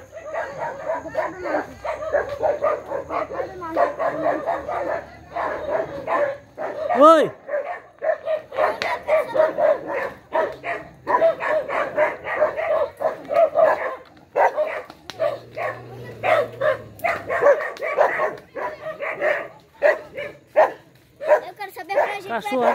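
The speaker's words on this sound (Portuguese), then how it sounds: "Cachorro, tem que latir mesmo." Dogs on a rural farm bark repeatedly in uneven bursts, some yips mixed in, close by, while people talk in Portuguese throughout.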